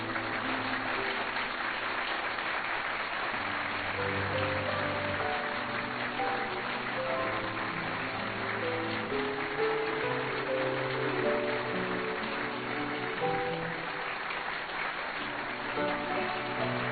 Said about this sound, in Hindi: जोरदार तालियों से स्वागत करिए मेरे दोस्त का।